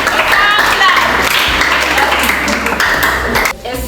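A group of schoolchildren on a school excursion claps their hands loudly and steadily for a few seconds amid crowd noise, then the clapping stops abruptly.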